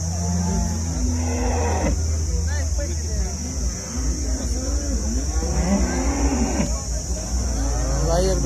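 Cattle lowing at the Sangola livestock market, a few drawn-out moos rising over a steady crowd of talking voices and market bustle.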